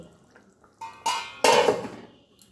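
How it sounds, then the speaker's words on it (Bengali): Metal lid lifted off a pot of thin jiol fish curry cooking over a low gas flame, a few quick clanks and scrapes rising to one bright clatter, close and alone. "2 মিনিট পর ঢাকা খুলে দিলাম।"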